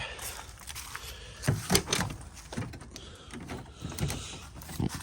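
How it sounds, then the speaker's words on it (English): A car hood is popped open: a few sharp mechanical clunks and a latch-like thump, close by, with a quiet outdoor background between them. "Pop the hood real quick."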